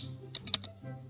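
Several quick keystrokes on a computer keyboard, four sharp clicks bunched in the middle of the clip, close and fairly faint over a low steady hum.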